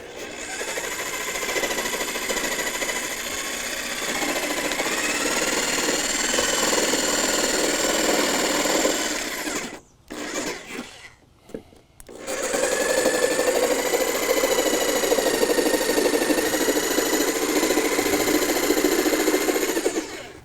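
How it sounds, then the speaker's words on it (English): A new jigsaw cutting wood for a deck whines steadily for about ten seconds, cuts out briefly with a few clunks, then runs again at a steady, loud pitch. "I was due for a new jigsaw"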